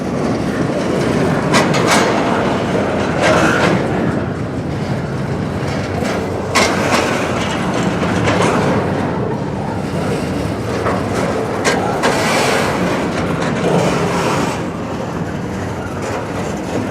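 A Union Pacific freight train led by an SD70 locomotive with a Norfolk Southern unit rolls past close by, a continuous loud rumble with rhythmic clickety-clack of wheels over rail joints and no talk.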